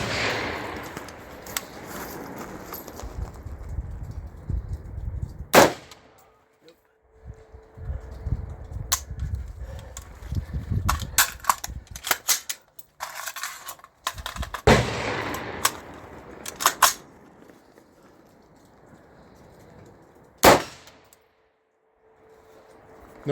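AR rifle fire striking a white steel gong at an outdoor range: a string of sharp cracks, some single and some in quick bursts, several followed by a ringing metallic tone, with a final loud shot after a pause.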